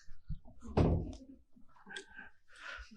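A door at a business awards event opens with a loud close thunk, followed by softer knocks and rustling from the room.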